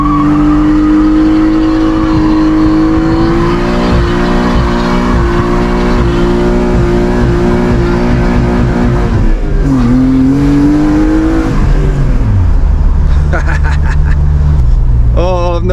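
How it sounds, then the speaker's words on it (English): M52-swapped BMW E36 doing a downhill burnout, a loud close engine held at high revs with rising and falling pitch, tyres squealing and scrabbling, then the revs drop near the end; a voice is heard over it. "That was my first proper burnout, boy."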